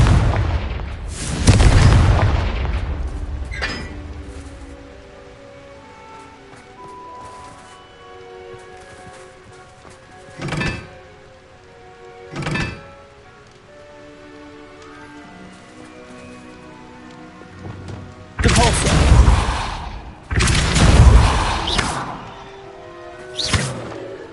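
Confringo fire spells go off in the Hogwarts Legacy video game with loud booming blasts, a heavy burst at the start and a cluster near the end, separated by sharper single impacts over a low, rain-like crackling bed.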